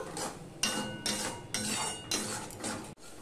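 A ladle stirring spice paste in a pan, giving several bursts of scraping and metallic clatter separated by brief pauses, close and moderately quiet.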